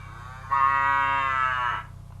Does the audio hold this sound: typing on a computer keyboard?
no